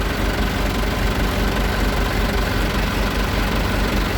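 Twin old mechanical Volvo inboard engines on a Bayliner 3450 Avanti motor cruiser idling together, a steady, even low rumble, close and continuous with no voices.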